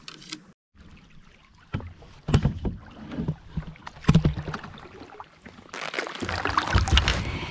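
Kayak paddling on a river in early spring, with irregular splashes and paddle strokes close to the microphone, bursts of water movement and rising wind noise toward the end, no talk.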